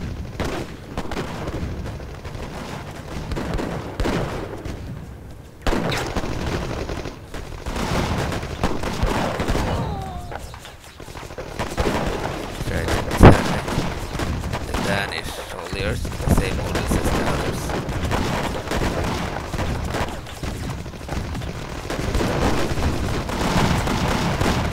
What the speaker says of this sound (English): Seems they had some artillery. That's bad.